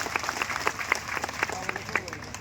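A crowd at a home guards' indefinite sit-in protest in Gardanibagh, Patna breaks into sustained, dense clapping, a steady patter of many hands at moderate distance with a few voices mixed in.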